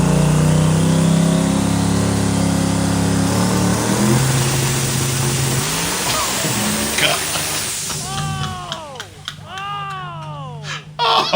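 A 5000 hp car roars at full throttle on a dyno, a loud sustained engine howl that rises, then falls away into rapid revving bursts and pops near the end, with excited talk running underneath.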